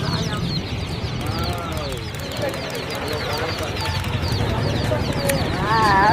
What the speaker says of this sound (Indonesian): Wow, anak ayam yang bisa melompat-lompat teman-teman.